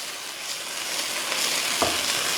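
Lotus stems are stir-fried with soybean paste over high heat, producing a loud, even sizzle close up that swells slightly, with one quick scrape of the spatula against the pan.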